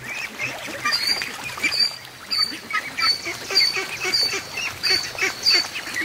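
Ducks and young ducklings quack while a goose honks among them, a busy stream of repeated calls near and loud over a constant outdoor background, with a voice talking now and then.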